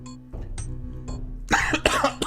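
One person coughs a few times up close, short harsh bursts ending in a louder, rougher throat-clearing cough.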